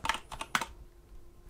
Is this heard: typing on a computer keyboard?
yes